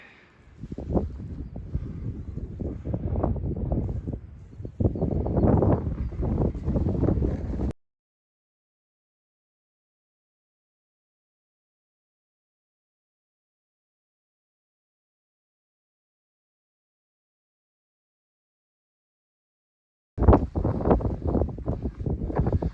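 Strong wind on an exposed Yorkshire Dales hillside roars and buffets against the microphone in loud, steady gusts for several seconds, then cuts to silence before the roaring returns near the end.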